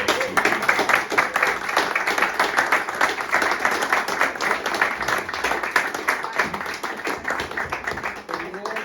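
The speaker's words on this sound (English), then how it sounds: "I think a round of applause is in order." A small group gives a round of applause in a room, brisk, close clapping that carries on steadily for several seconds and tapers slightly at the end, with a voice speaking faintly beneath.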